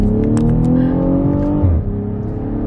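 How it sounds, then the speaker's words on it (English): 2020 BMW X5 M Sport SUV accelerating from inside, the engine note rising steadily in pitch before a gear change drops it, with a few sharp exhaust pops crackling early on. "Damn, that exhaust pops."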